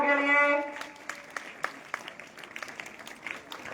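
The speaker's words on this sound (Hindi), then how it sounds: "जोरदार क्लैपिंग इन बच्चों के लिए।" After a brief voice, scattered claps ring out from a school audience in Taranagar honoring students, sparse and uneven hand strikes at moderate distance.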